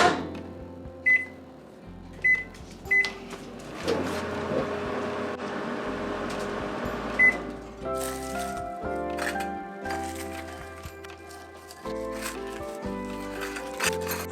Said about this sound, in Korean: 멸치 띠포리 3개 전자레인지에 넣고 50초씩 끊어서 돌려보겠습니다.